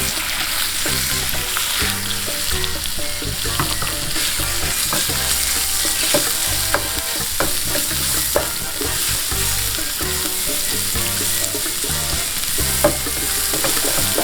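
Minced pork sizzles and fries in a hot pan while a utensil stirs and scrapes it, a steady loud crackle with repeated clanks throughout, for a Thai stir-fried holy basil dish with fried egg.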